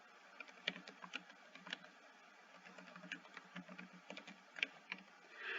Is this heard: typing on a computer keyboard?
yes